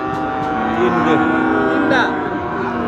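Cattle moo loudly nearby at a heifer market in Dhaperhat, Bogura, in long, low drawn-out calls over a busy outdoor background with faint voices.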